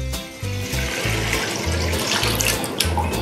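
Water pours steadily into a bowl for pizza dough, a continuous close splashing stream under faint low background music.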